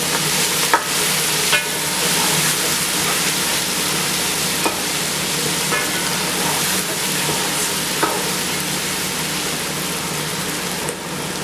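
A spoon stirs chickpea pulao in a pot over steady sizzling heat, with occasional scraping knocks against the pot rising above the continuous frying hiss, close and loud without speech.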